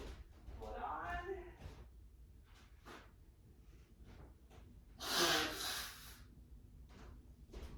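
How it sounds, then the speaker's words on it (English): A short, forceful nose blow into a tissue partway through, amid faint rustling and soft breathy sounds nearby. "had to just blow my nose."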